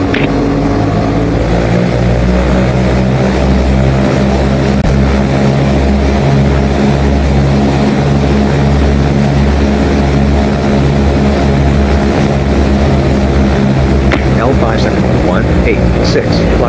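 Cessna 172 propeller airplane in flight on a trip to Surigao Airport: a loud, constant cabin drone of engine and propeller with steady low hum, heard from inside, with no pauses.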